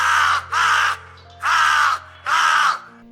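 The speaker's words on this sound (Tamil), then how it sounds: "கத்திக்கொண்டே காகம் தண்ணீர் தேடி பறந்தது" A crow caws loudly and close in a children's Tamil story about a thirsty crow, giving four harsh, drawn-out calls in an even rhythm with short gaps, alone with no talk.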